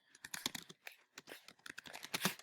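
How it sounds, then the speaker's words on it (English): Rapid, irregular keystrokes clatter on a computer keyboard close by, a quick run of typing with short gaps between bursts. "I'm going to type in Eisenhower"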